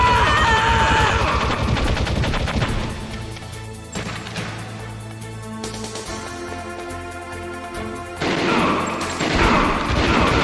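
Gunfire from the video game Metal Gear Solid, a dense loud stretch of shots and crashes over game music, easing off in the middle before a heavy burst returns near the end.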